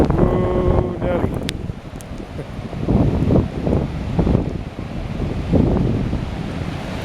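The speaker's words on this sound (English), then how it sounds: "Love the sound of the waves." Open Pacific Ocean surf breaking on the shore at Tofino on Canada's west coast, repeated rolling crashes and hiss under gusty wind buffeting the microphone, with a brief voice near the start.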